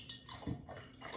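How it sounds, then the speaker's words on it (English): Water is poured slowly into a jar, giving a brief, close gurgling trickle that swells slightly midway before trailing on. "He's going to pour slowly."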